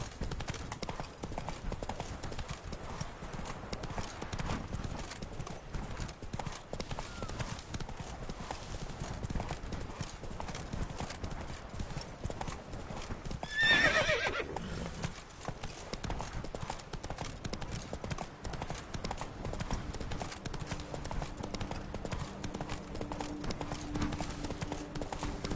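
A horse's hooves clip-clop in a steady rhythm through the Witcher 3 game world, with a brief neigh rising midway over continuous trotting.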